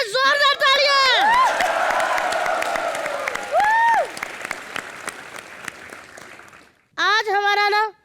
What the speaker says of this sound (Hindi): चिंटू शर्मा, जोरदार तालियां।